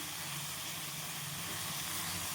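Steady, loud sizzling hiss of bitter gourd roasting in a pan, a continuous close frying sound with no pauses.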